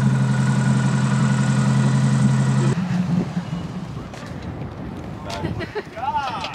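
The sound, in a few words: Nissan 240sx engine running rough in limp mode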